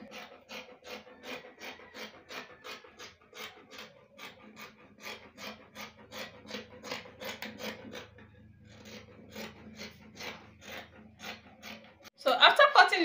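Scissors snip through abaya kaftan dress fabric in a steady run of short, crisp cuts close by, pausing briefly before a louder rustle of cloth at the end.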